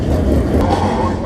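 Stock cars circle a wet race track at a stock car racing event, giving a steady, loud, low engine rumble that holds for the whole moment, with a muffled voice over it.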